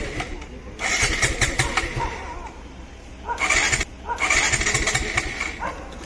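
A motorcycle fitted with a remote security system cranks repeatedly without firing, giving two rough, close starter bursts separated by a quieter gap.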